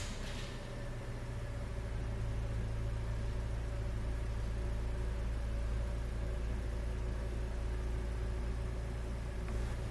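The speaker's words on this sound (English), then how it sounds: "we'll drive forward a little bit and we'll get those tensioned up" A 2020 Nissan Kicks fitted with Konig self-tensioning snow chains creeps forward, giving a steady low engine drone and rumble, close and continuous, with no talk.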